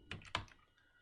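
Two quick bursts of keystrokes on a computer keyboard, close and fairly quiet, with a faint tap after and near silence between.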